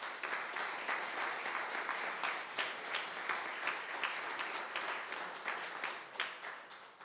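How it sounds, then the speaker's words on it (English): A crowd claps at a civic ceremony honoring neighborhood workers, a sustained round of applause with even rhythm that continues for several seconds at a distance. "deserve a real round of applause"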